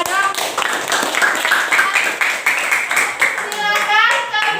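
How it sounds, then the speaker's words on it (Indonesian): Students in a classroom clap together after their group presentations, a dense, steady patter of many hands lasting several seconds, with children's voices mixed in. "kita tepuk tangan buat kita semua dong."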